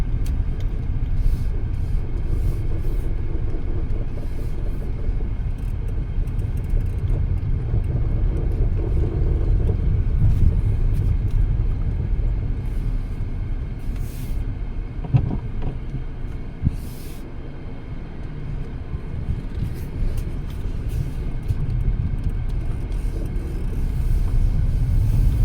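Cars and motorbikes move through a parking lot at Balikpapan Regency in a steady, continuous low rumble of traffic, with a few brief louder passes and no clear talk.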